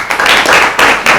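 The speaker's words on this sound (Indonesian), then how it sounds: "Tepuk tangan" An audience at an Islamic theology lecture claps, a loud, close burst of hand claps in a few uneven surges over about a second.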